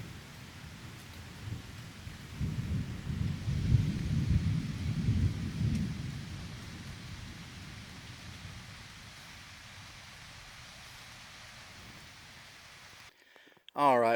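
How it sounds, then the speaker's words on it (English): Thunderstorm in the Sipsey Wilderness woods during a light rain: a long, deep rumble of thunder swells and fades over steady soft rainfall, then the rain continues alone before a sudden loud noise right at the end. "I don't know if you can hear the thunder around us."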